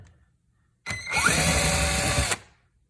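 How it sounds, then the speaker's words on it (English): A power drill whirs in one steady burst of about a second and a half, close and clear, then stops abruptly, while fixing a thermofoil cabinet. "So I just use a drill here."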